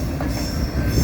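A CSX freight train passing close by, a loud steady rumble of rolling wagons with a high metallic wheel squeal running through it and no voices over it.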